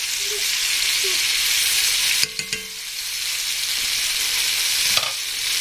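Bacon frying in a pan until crispy gives a loud, continuous sizzle and crackle, broken by a few brief knocks of a utensil partway through and near the end.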